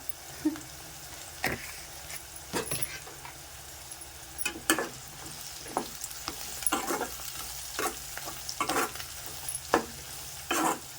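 Onions and green chillies fry in a pan for a village-style broad bean curry, a steady sizzle broken by repeated sharp spatula stirs and scrapes, close and clear with no talking.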